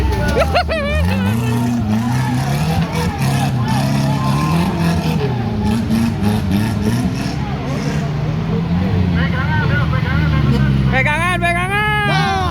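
An off-road vehicle engine revs loud and steady on the Cibuntu trail, its low drone swelling and dipping throughout while several people shout and talk over it.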